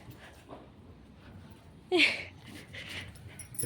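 A pet dog gives a brief whimpering yelp partway through, standing out over a low, steady background.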